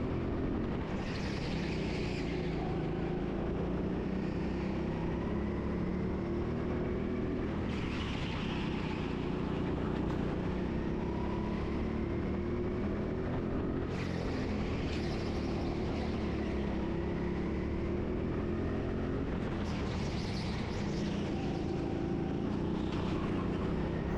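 Go-kart engines racing round an indoor kart track, a steady droning engine roar with rising and falling whines as karts accelerate and pass, continuous throughout with no talk.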